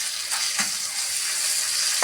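Ginger garlic paste frying in a little oil in a pan for a radish and putti fish curry, giving a steady, close, hissing sizzle with a few soft stirring scrapes.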